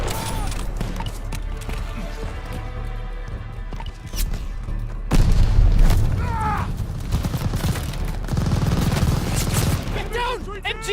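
Gunfire and explosions from the Call of Duty Vanguard campaign: dense, sustained bursts of shooting with heavy booms, loud and continuous, rising around the middle, with shouted game voices over the battle.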